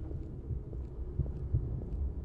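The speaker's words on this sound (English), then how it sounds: "I hear a heartbeat." A heartbeat thumps in the horror video game Interior Worlds, a low, muffled double pulse repeating at a steady, slow rhythm over a faint ambient hum, with no voices over it.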